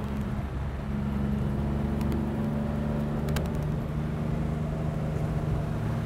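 Classic American car cruising at 65 mph on the freeway in traffic, a steady low engine drone with road and wind noise inside the cabin, constant throughout with a few faint clicks.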